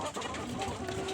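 Layer and farm chickens kept at home cluck and murmur close by in a brief, busy burst from several birds at once, with no one talking.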